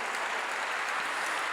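A church congregation claps together during a sermon on prayer, a brief, dense and continuous burst of many hands lasting little more than a second.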